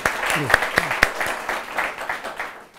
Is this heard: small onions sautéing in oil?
no